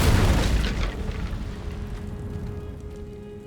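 A fiery Incendio spell blast in Hogwarts Legacy: a loud booming burst right at the start that rumbles and crackles, then slowly fades into a low, lingering hiss.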